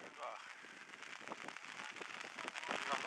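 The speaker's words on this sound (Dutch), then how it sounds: "het begint te regenen" Rain begins to fall on a football pitch during a match, a faint, fine patter of drops with soft crackling hiss, steady and distant.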